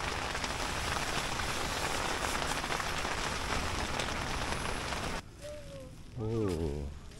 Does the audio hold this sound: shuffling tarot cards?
no